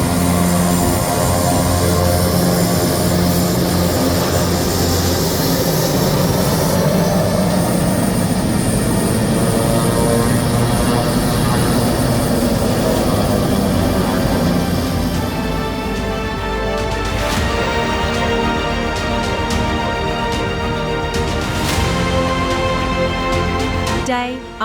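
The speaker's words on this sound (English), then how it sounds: "The aircraft do not shut down their jet turbine engines, and the exhaust fumes are a constant companion." Turbine-powered firebombing aircraft with propellers idle near a bushfire base, a loud continuous turbine whine and propeller drone holding steady, with a shift in pitch partway through.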